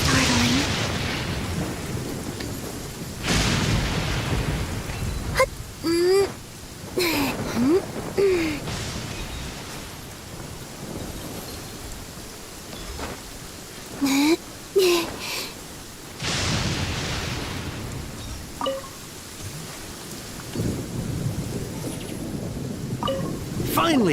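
Thunder rolls and rain in the Genshin Impact game, heavy booming cracks breaking over a steady rain wash, with several loud bursts spread across the stretch and voices speaking in between.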